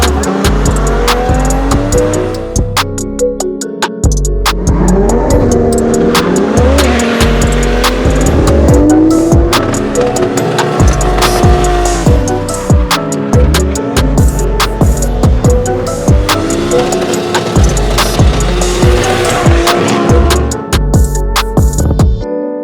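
Car racing around the Apple Valley Speedway track, engines roaring loud and steady throughout with rising and falling revs, tire squeals and cars passing close by.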